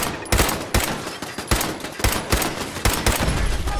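Rapid bursts of automatic turret gunfire ring out in the video game Fallout 4, loud and close, firing in quick repeated volleys with short gaps between bursts.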